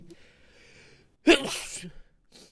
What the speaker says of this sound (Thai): ตะกี้จามไปนิดนึง